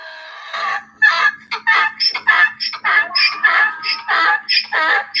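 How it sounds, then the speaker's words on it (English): A recording of a donkey braying plays loudly and close, with a rapid run of harsh, nasal, honking calls repeated in an uneven rhythm. "Regular donkey noises."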